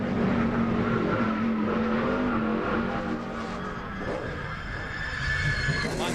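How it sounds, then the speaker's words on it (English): A stock race car in 2005 Stater Bros 300 qualifying revs hard with a whining engine note, then drops off sharply under heavy braking before picking up again. The car is loud and close throughout, with no talk. "you can hear him. He was gassing really hard and all of a sudden on the brakes really hard."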